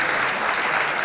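A television studio audience claps in a brief, dense burst of applause, steady and fairly loud throughout, with no voices over it.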